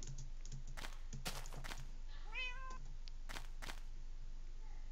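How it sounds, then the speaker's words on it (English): A house cat meows once, a short rising-falling cry in the middle of the clip, heard alongside clacking computer keyboard typing and a soft background hum. "Cat, shut up!"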